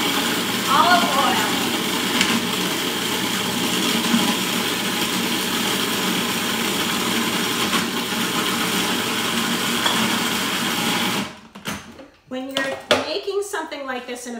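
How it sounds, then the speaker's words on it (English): A food processor blends romesco sauce with olive oil, a loud steady whirring grind that runs for most of the time and then cuts off into clattering bowl and lid handling. "Something like this in a food processor,"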